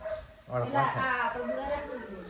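A dog gives short yips and whimpering barks at a distance, while people talk loudly over it.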